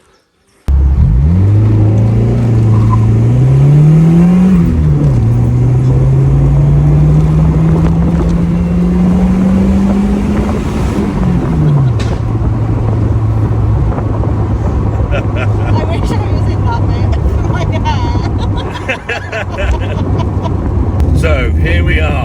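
A Lotus Elan M100 sports car, roof down, accelerating through the gears with a loud, close engine note that rises, drops at a shift, then settles into a steady drone under heavy wind rush.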